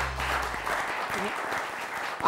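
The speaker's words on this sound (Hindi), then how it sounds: "आपकी बहुत सारी तालियों में वसीम अकरम साहब" A television studio audience applauds for cricketer Wasim Akram on a talk show, a short burst of steady clapping with a voice briefly heard over it.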